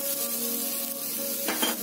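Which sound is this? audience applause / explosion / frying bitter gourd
frying bitter gourd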